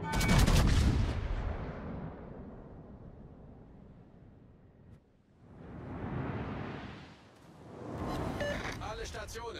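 Naval gun salvos boom in World of Warships, with a heavy burst of cannon fire at the start, a swelling rumble around the middle and another blast near the end, while voice lines speak over the action.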